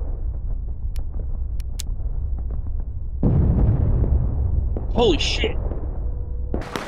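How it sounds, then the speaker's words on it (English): A cannon shot in the War of Rights video game lands as a sudden, loud booming rumble that sustains for a couple of seconds while a player exclaims over it. "I survived the cannon shot"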